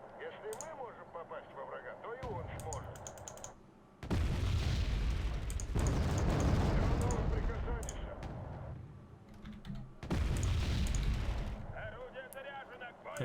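A 90 millimeter gun fires in Wargame: Red Dragon. Several heavy booms and blasts come in bursts over the game's battle noise, and a voice talks over parts of it.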